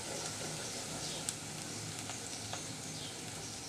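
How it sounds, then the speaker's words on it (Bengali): Onions frying in oil in a pan while cooking a lemon pabda fish curry, a steady close sizzle with a couple of faint clicks, no talking. "পেঁয়াজের কাঁচা গন্ধটা যাওয়া পর্যন্ত আমি পেঁয়াজটাকে তেলে ভেজে নিলাম"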